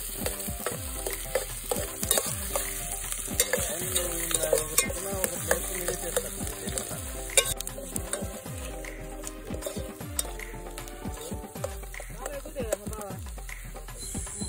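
Whole spices for bagara tempering fry in a pan at an outdoor jungle cookout, with a steady sizzle and repeated scraping strokes of a spoon, close and fairly quiet throughout.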